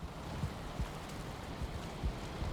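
Steady rain falling in the video game Valheim, heard from a balcony, a soft even hiss with low patters and faint gusts, no talk.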